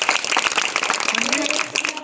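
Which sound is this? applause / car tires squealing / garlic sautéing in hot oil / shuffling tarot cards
applause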